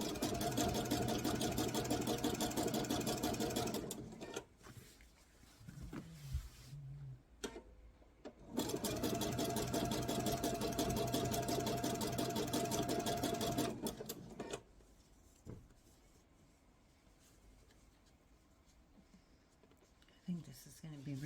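Sewing machine stitching a fabric Bali bowl, running in two long loud bursts of rapid needle chatter separated by pauses, with quieter gaps and a speaking voice in between.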